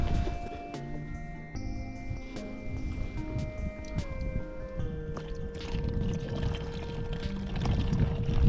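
Water gathered from a deep stream in Alaska, with steady pouring and gurgling throughout, close and fairly loud.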